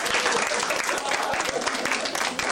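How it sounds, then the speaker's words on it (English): Audience applause at a comedy show: close, dense clapping that holds steady across the moment, with some voices mixed faintly into the crowd noise. "make sure to say applause"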